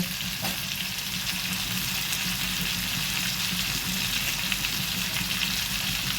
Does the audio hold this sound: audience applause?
no